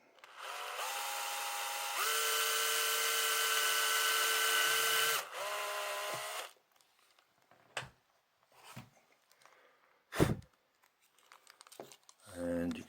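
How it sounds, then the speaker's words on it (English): A small power drill with a 3mm bit whines at a steady pitch for several seconds drilling a Scalextric Shelby Cobra model car, stops, briefly runs again, then gives way to scattered handling clicks and rustles. "I've got a 3mm drill."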